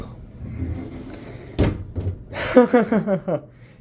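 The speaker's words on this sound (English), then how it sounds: "Household style, binding, sliding sort of doors." Household-style sliding closet doors in a hotel room, binding as they move: a low rolling rumble ends in a sharp thud, and a voice follows right after.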